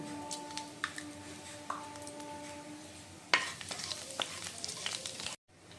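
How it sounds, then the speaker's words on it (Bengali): A spoonful of nigella seeds dropped into hot oil left from frying fish sizzles and crackles softly, with a few clinks of a spoon against the pan and a sharp spattering burst partway through. "আর গ্রেভিটা বানানোর জন্য যে তেলে আমি মাছ ভেজেছিলাম সেই তেলেই দিয়ে নেব 1 চামচ কালো জিরা ফোড়নে।"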